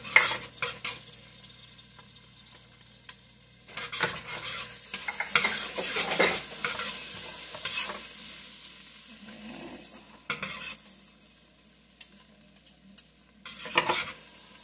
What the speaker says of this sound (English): go ahead and add in my fresh garlic. Allow that to cook down a little.